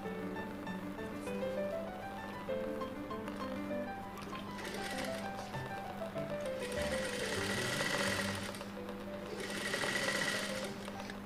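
A sewing machine runs steadily while stitching a blouse, its motor whirring in a continuous hum with faint mechanical chatter, fairly quiet and close, with occasional surges in speed.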